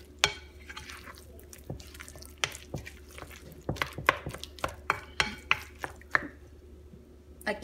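Wooden spoon stirs banana and apple bread batter, a series of soft irregular wet clicks and knocks against the bowl, quiet and close, with no talking.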